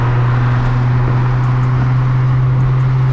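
A Nissan 350Z with a single exit exhaust cruises at steady revs, its loud, even engine hum heard from inside the car without a break.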